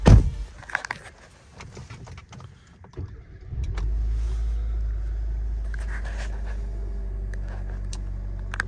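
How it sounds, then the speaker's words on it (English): A Hyundai Accent engine cranks and catches after a few seconds of quiet clicks and handling, then settles into a steady, close idle that continues to the end. "start up the car."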